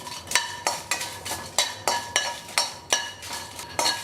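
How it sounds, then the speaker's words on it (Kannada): Red chillies are roasted in a pan and stirred with a metal spoon. The spoon makes a steady rhythm of sharp scraping clinks, about three per second, over a faint low sizzle, with no talking. "ಬಾಣಲಿ ಇಡ್ತಾ ಇದ್ದೀನಿ ಮೆಣಸಿನ್ಕಾಯಿ ಹುರ್ಕೊತಾ ಇದ್ದೀನಿ"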